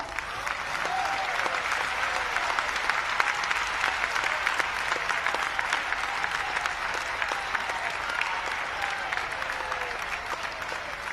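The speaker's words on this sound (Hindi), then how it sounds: "अच्छी चीज के लिए ताली तो बजाओ।" A large audience at a Panchkalyanak religious gathering in Kundalpur, Damoh claps steadily for over ten seconds, a loud, dense and unbroken wall of applause.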